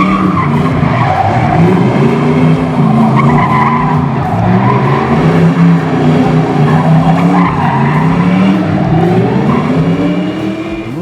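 A garage-built 1965 Ford Mustang coupe hot rod slides sideways, its tires squealing loudly and continuously over a roaring, revving engine, close by for the whole stretch.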